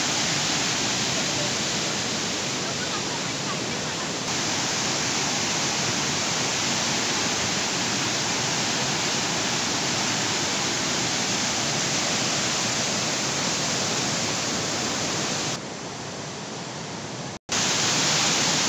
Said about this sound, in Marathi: इथे तुम्ही बघू शकता रंधा धबधब्याचे हे रौद्र रूप अतिशय भयान बघू शकता तुम्ही आता हे